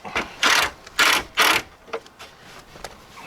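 A ratchet drives three Phillips head screws back into the bottom of a Jeep XJ steering column during a turn signal switch replacement, with a few quick clicking runs up close, then fainter ticks.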